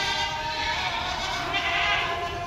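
A goat gives a long, wavering bleat at Deonar goat market in Mumbai, sustained and fairly loud over faint market background noise.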